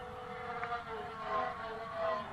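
A foamboard VTOL tail-sitter's electric motor and propeller at full throttle, a steady whining buzz that rises and falls slightly as it flies aerobatics at moderate distance, with no talk.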